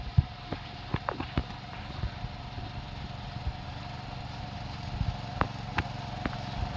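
A 7 hp mini power weeder engine runs at a steady, droning pitch with a hum and light mechanical ticks and knocks, heard up close with no talk.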